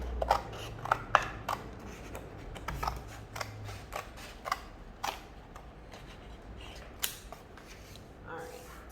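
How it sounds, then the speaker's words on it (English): Scissors snip through paper for a fall circle tree art project: a string of close, crisp clicks and cuts in an irregular rhythm, fairly quiet, with brief pauses between strokes. "So I'm gonna cut one side, and then I'll cut the other side"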